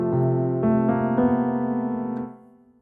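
Piano plays the opening of a song, a few sustained chords struck one after another in a slow rhythm, close and clear, fading out at the end with no voices.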